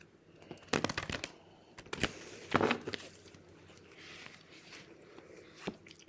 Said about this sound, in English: So let's give these a ruffle shuffle